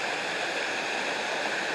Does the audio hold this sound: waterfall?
yes